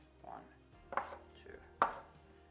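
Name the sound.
knife chopping rolled dough into portions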